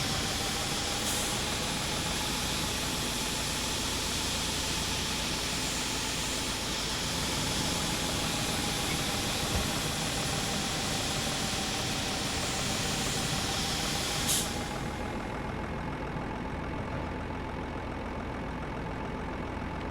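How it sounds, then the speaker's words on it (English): Locomotive diesel engine working under load in the Derail Valley train simulator, a loud, continuous droning rumble with a steady tonal hum, unbroken for the whole stretch and without any voices. "That engine is under load now because it's filling up the tank"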